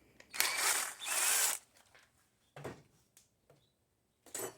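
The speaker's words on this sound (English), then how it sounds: "I'm just going to drill a hole dead center." A power drill whines in two short loud bursts drilling a hole through aluminum angle, followed by quieter clicks and handling noises, then another brief burst at the end.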